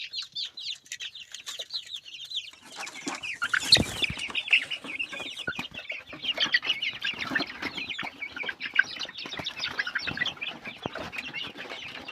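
A crowd of chicks and hens chirps and clucks continuously nearby, a busy overlapping chatter with occasional sharper peeps and a brief flutter.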